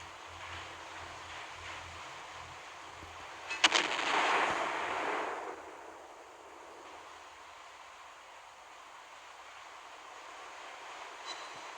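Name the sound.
naval guns firing high explosive shells in a video game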